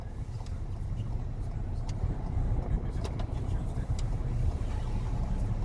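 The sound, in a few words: car engine during a driving lesson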